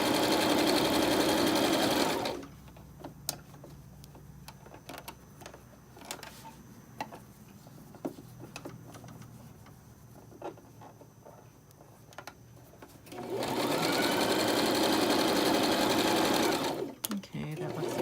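Sewing machine running steadily while stitching the seam of an infinity scarf, a loud continuous mechanical whir in two long bursts at the start and end, with a quieter stretch between them.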